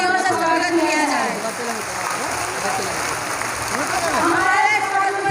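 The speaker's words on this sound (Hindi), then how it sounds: "उनके लिए जोरदार तालियों से स्वागत किया जाए।" A crowd at an ASHA workers' mass rally claps to welcome the state health minister, a broad wash of hands running throughout beneath a loud amplified voice talking over it.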